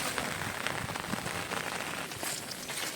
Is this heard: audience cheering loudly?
no